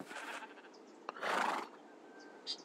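A horse in a modded Minecraft game gives a clear whinny in the middle, with softer rustles before it and a short call near the end, heard alone and fairly close.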